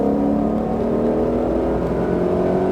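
A Mustang Shelby GT500 accelerating hard on a race track, a loud, steady, close engine roar droning under load throughout.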